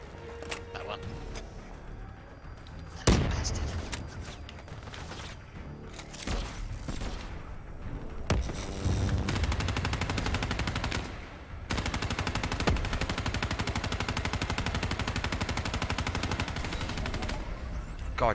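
Sustained automatic gunfire fills a Call of Duty: Black Ops 3 campaign firefight, with long rattling bursts, sharp single shots and a few booms, loud and close, with someone talking at times over the shooting.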